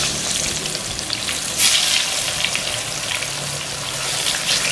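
Tempe fries in hot oil, a loud, continuous crackling sizzle with occasional bursts and stirring sounds, close and steady throughout.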